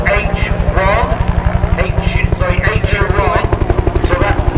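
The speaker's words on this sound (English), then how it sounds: "another pass sideways with the mighty UH-1, the Huey, the Bell Iraquoi helicopter, the US Army" A Bell UH-1 Huey helicopter passes at an airshow, its loud rotor producing a fast, even blade slap under a commentator's voice.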